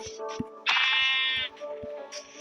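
Sheep bleating in the Minecraft survival game, one long, loud, wavering bleat near the middle with shorter fainter calls around it, over soft game background sounds.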